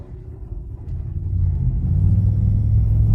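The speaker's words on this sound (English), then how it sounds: "Do you see how that V8 responds?" 2025 Chevrolet Tahoe V8 builds from a low rumble into a steadily rising, deep engine drone as the SUV accelerates, heard from inside the cabin.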